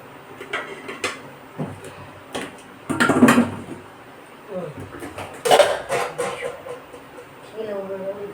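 Metal kitchen vessel handled while preparing gooseberries for pounding, with scattered clanks, scrapes and clatters of pots and utensils at close range, and someone talking in between.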